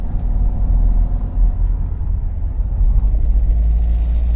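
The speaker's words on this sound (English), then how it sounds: "Here comes that rattle and vibration again." Steady low rumble and vibration from a car climbing a hill at Minthis Hills Resort near Paphos, Cyprus, loud and continuous with a faint rattle riding over the engine drone.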